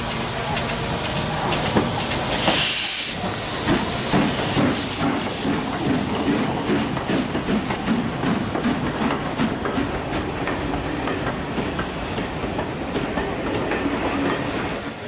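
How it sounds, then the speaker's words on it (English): A crimson LMS steam locomotive, 6201 Princess Elizabeth, passes on the East Lancashire Railway near Ramsbottom: loud continuous rumble and clatter of the train with bursts of hissing steam, and a voice talks over it. "southbound at Ramsbottom at that very moment, another Crimson Lake LMS locomotive 6201 Princess Elizabeth"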